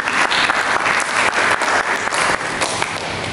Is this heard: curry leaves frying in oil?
no